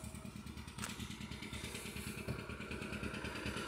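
A refixed John Deere 4020 tractor engine runs steadily nearby with a rhythmic, throbbing idle and a faint clatter, and no one speaks.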